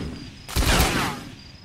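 A grenade detonates in a first-person shooter game, a single sharp, loud blast that hits suddenly and rolls off into a fading rumble over about a second.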